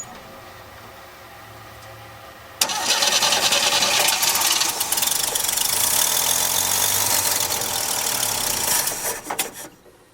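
A 1968 Chevy engine on a weak battery and a nearly dry tank cranks over: after a quiet stretch, a loud, steady churning starts abruptly and runs about seven seconds before cutting off, with no one speaking.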